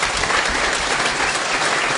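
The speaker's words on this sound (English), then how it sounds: "So give him a round of applause." An indoor audience at a book launch event applauds, dense and sustained clapping from many hands that holds steady and loud for the full two seconds with no speech over it.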